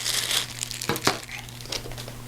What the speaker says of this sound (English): Let me go ahead and take this stand out of its plastic bag